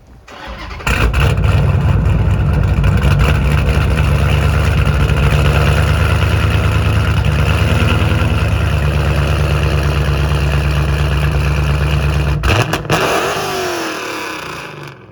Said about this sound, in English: I'm gonna go ahead and have you start the car for us so they can hear